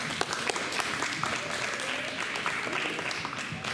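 Audience applause for volunteers at a post-prom event, a steady wash of clapping lasting the whole stretch at moderate level, with some crowd murmur mixed in.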